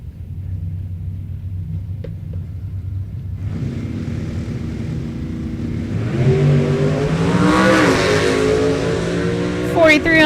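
A 2002 Cavalier and a 1967 Mustang launch side by side at a drag strip. A low idle rumble swells into a loud, rising engine roar, with revs sweeping upward as the cars pull away.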